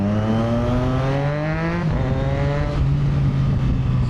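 A Triumph Tiger 660 motorcycle fitted with a Termignoni exhaust revs up loudly and close, its engine note climbing steadily before dropping back and holding a lower drone.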